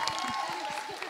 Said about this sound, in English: So, round of applause for Ellie, please.